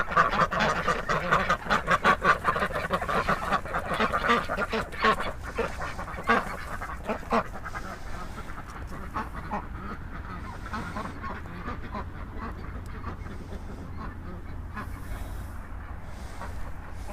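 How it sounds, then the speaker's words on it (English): Ducks quacking and honking in a dense, overlapping burst as they rush out toward a food forest after their frozen house doors were freed, loud at first and thinning to scattered calls. "But the ducks would like to come out to the food forest now."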